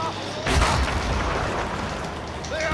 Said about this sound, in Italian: Merda, che esplosione!